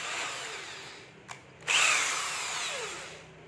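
A cordless battery drill whirs close by in short runs, with a brief burst, a pause, then a louder sustained spin that slowly winds down.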